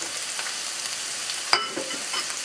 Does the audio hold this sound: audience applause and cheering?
no